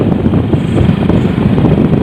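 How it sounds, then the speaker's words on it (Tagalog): Loud, continuous wind buffets the microphone, a heavy low roar with the engine rumble of a Rusi Delta X 110 motorcycle underneath, moving fast on an open road. "malakas ang hangin sa labas"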